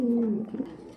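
A domestic pigeon gives a brief, low, throaty coo close by, its tone sliding slightly downward before trailing off into a quieter murmur.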